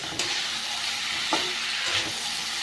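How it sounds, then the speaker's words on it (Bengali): Spice-rinsing water from ground chilli and ginger paste poured into sizzling masala for a light katla fish curry with potato and cauliflower, giving a steady hiss and fry with a few brief bursts, no talking. "লঙ্কা বাটা মশলা ধোয়া জলটা এর ভেতরে দিয়ে দেব"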